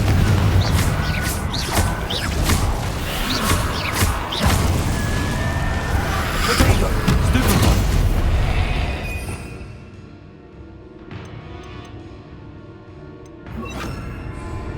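A fire spell is cast in a Hogwarts video game, giving loud, dense booming and whooshing bursts for several seconds before fading to quieter crackles and thuds.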